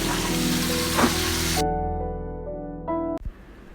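Chap paratha fries in a pan, a loud broadband sizzle that cuts off abruptly partway through, followed by sustained musical tones and a sharp click.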